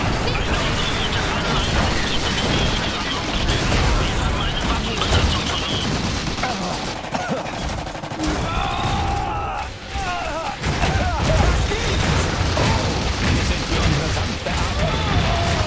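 Dense gunfire and explosions in the video game Iron Harvest, rapid bursts of shots and crashing impacts filling the scene continuously, with a voice speaking at times over the battle.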